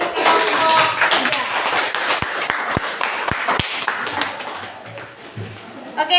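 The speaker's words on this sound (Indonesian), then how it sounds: "Ada kita beri aplaus untuk kelompok" A classroom audience applauds a student group after their presentation in a physics lesson on material elasticity and Hooke's law, with scattered close claps and voices talking over them before the clapping fades out.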